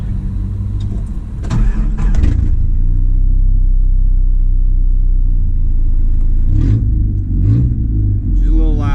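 A loud, deep engine on a 25-year-old project truck, heard with the door open, idling with a heavy low rumble and steady throbbing, occasional revs and clunks, and someone talking over it.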